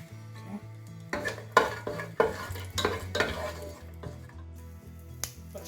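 Whole spices, leaves, bark and cashews frying in a pan, a soft sizzle under repeated metal scrapes and clinks of a spoon stirring against the pan, with a low steady hum beneath.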